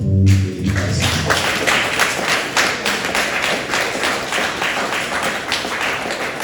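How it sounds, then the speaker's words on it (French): A ceremony audience gives steady, dense applause for an honoree at a trophy event, continuous clapping after a brief voice at the start. "de faire un tonnerre d'applaudissements pour Éric Assou"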